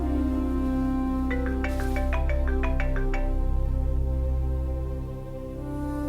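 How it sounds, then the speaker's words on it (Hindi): A phone ringtone plays a short run of bright, repeating electronic notes over a steady background hum, then stops. "गुलाम, इस फोन को उठा ले, मेरे सर में दर्द हो रही।"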